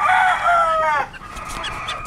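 Backyard chickens and surviving chicks after a typhoon flood: a loud drawn-out crowing call opens, then quieter clucks and peeps carry on close by, with no talking.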